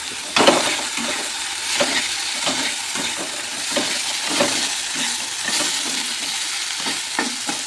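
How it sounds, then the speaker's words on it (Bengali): Eggplant is stirred and fried in a pan with ground chili paste, giving a continuous loud sizzle with irregular scraping strokes throughout and no talk. "এগুলোর মধ্যে দিয়ে দিচ্ছি বেগুন। বেগুনটা এখন এখানে কষাবো।"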